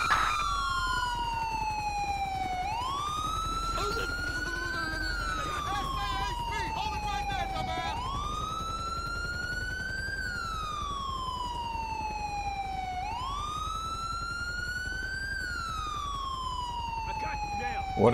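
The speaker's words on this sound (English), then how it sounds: "And I need to go back and turn my siren off." A Whelen Liberty police siren on a 2016 Ford Taurus patrol car in GTA 5 wails steadily, rising and falling in long repeated cycles, fairly loud and continuous, with faint speech beneath it.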